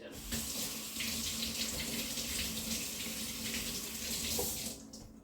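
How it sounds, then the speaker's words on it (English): Kitchen faucet running steadily while vegetables are rinsed under it, a loud continuous splashing rush lasting several seconds before cutting off at the end, with no talking. "I'm gonna rinse these guys off."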